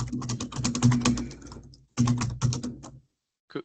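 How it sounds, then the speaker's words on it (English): Rapid clatter of keys on a computer keyboard during an online call, close and fairly loud, in two dense bursts of quick strokes separated by a short pause, then a final lone tap; no voices. "It's a bit noisy, your keyboard."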